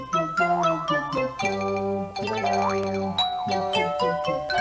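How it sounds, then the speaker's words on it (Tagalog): Bright cartoon doorbell chimes in a Doraemon episode, a series of ringing, bell-like tones with springy pitch bends, repeated several times in close succession and loud against near silence. "Pero parang may nag-doorbell ah."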